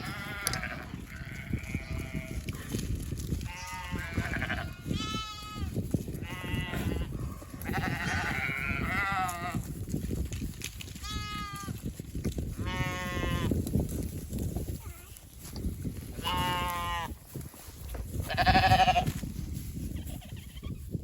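Sheep and young lambs in a spring farm paddock bleat repeatedly, a chorus of overlapping calls near and far, some loud and close, over steady outdoor background noise, with no talking.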